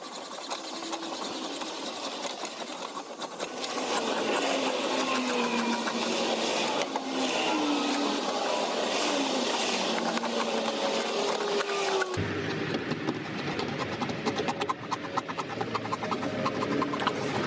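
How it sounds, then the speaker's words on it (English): A hacksaw cuts through a small plastic inlet pipe on a vehicle's air cleaner box. The strokes form a steady, close, rasping rhythm that grows louder partway through and carries on with no talk. "using a hacksaw, cut off the small inlet pipe"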